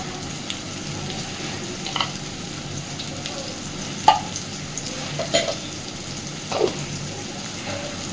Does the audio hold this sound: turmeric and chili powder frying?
yes